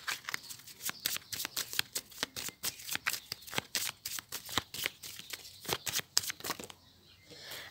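Tarot cards shuffled by hand in quick, even riffling bursts, close and crisp, continuing for several seconds before stopping near the end.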